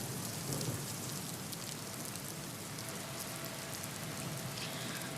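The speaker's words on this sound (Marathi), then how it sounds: "मुंबई आणि परिसरामध्ये सकाळपासूनच अगदी सातत्यानं पाऊस पडत असलेला बघायला मिळत आहे" Heavy monsoon rain falling in Mumbai, a dense, steady hiss of downpour at fairly low level, unbroken and without voices.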